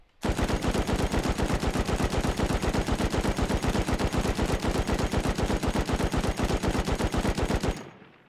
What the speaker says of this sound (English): That is a real recoil pattern right now for the handmade light machine gun.